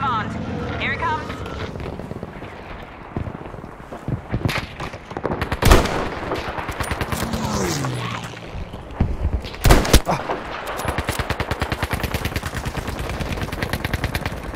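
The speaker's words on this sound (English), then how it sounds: "These coordinates, we need an artillery barrage right away." Artillery barrage in the video game Battlefield V: heavy booming explosions and rattling gunfire over continuous battle noise, with voices talking throughout.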